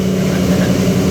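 A Porsche 963 GTP race car idles loudly and steadily in the Sebring paddock, a deep rumble with a constant low hum and no breaks, close by.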